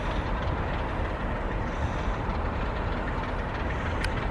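A broad, steady rumble of East Midlands Railway coaches rolling along the track, dense and continuous, with a faint brief squeal near the end.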